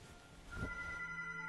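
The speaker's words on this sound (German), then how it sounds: "Oh, Telefon." In the video game Among the Sleep, a telephone rings faintly in the background, with a thin tone holding steady through the second half.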